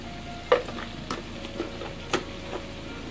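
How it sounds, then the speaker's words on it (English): Pumpkin and shrimp curry is stirred in a pan with paprika, spoon scrapes landing in a few sharp strokes over a steady low sizzle, close and alone. "And then stir a little bit."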